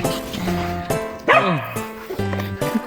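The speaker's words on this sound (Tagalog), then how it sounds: "Ang daming aso sa loob." Several dogs bark and yip in quick bursts from inside a padlocked enclosure at a home garden, close and loud, with a whine rising between the barks.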